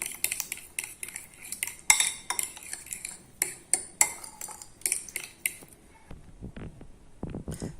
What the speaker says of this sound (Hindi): और फोक की मदद से हम इसको अच्छी तरीके से मिक्स करेंगे।